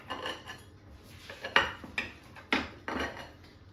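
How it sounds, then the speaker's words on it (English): A knife slices a chicken, smoked bacon, mushroom, tomato and basil omelette into wedges, with several sharp clicks and scrapes of the blade against the plate or pan, spaced unevenly and heard up close without any talking. "I would literally just cut this like a pizza"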